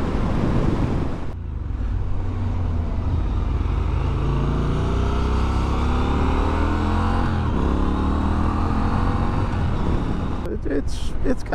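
A 2023 Triumph Scrambler 1200 XE Chrome motorcycle riding along, with steady engine drone and rising and falling revs under heavy wind rush, loud and continuous throughout.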